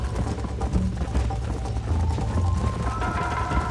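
Horse hooves from the video game Red Dead Redemption, with a steady run of muffled clip-clop beats under game music and ambient noise.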